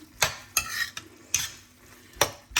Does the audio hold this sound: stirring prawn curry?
yes